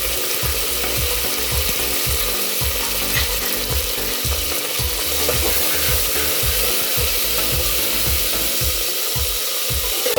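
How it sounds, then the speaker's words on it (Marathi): Whole spices and three green chillies fry for rajma, giving a steady, loud sizzle with a regular rhythmic stirring or scraping tick running through it. "त्यांना छान तिखट फ्राय करून घ्यायचं."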